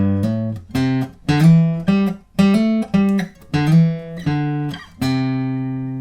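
Acoustic guitar playing a riff at a slow tempo, a sequence of clear plucked and strummed chords with distinct pauses between phrases, ending on a sustained ringing chord, close and alone.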